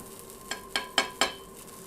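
Chorizo frying in oil in a pan for paella, stirred in four quick, evenly spaced scraping bursts over a faint, steady sizzle.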